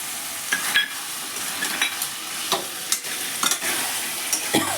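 Potato curry with peas and whisked sour yogurt cooking in a pan on a lowered gas flame, with a soft continuous sizzle broken by repeated scraping and stirring strokes of a spoon, close by and alone.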